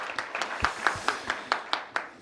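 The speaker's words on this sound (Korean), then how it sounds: "힘차게 박수 한번 쳐주십시오" Roughly ten separate, evenly spaced hand claps ring out at a public policy forum on the webtoon industry, crisp and fairly close, with no talk over them.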